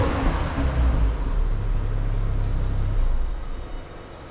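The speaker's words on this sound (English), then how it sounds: "let you hear what the car sounds like" A Renault Megane RS Trophy engine idles with a low steady rumble, swelling briefly as it is lightly revved, then settling and fading slightly toward the end, with no talk.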